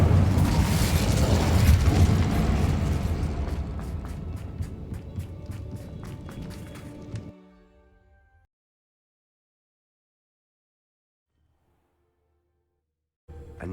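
Bombarda and Incendio spell blasts in Hogwarts Legacy erupt as a loud, dense roaring burst that rumbles and crackles for several seconds, then fades into near silence before a faint new sound at the end.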